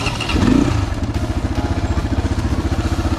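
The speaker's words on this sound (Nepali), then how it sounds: "गोर्खाली दाइको नयाँ बाइक फर्स्ट राइड" An Asian Beast Hyper X 250 motorcycle engine runs close by, a loud rapid throb that settles into a steady, even idle pulse with a slight rev at the start.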